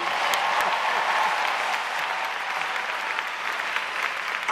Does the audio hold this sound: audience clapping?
yes